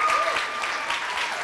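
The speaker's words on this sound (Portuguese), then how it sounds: "mais uma salva de palmas para a Sueli." Clapping from the audience at a school graduation ceremony in Brazil, a continuous wash of applause with a faint tone running through the start.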